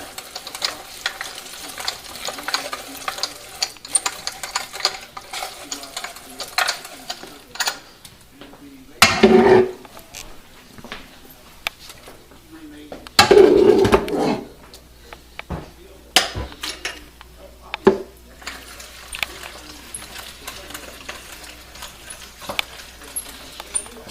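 Cooked apples for apple butter pressed through a metal strainer, giving soft squelching, scraping strokes with two louder grinding pushes, mixed with clinks and a voice talking.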